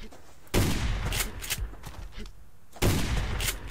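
Shotgun blasts in a PvP survival game, two sharp loud booms spaced a couple of seconds apart, each trailing into rumbling echo with smaller pops and impacts in between.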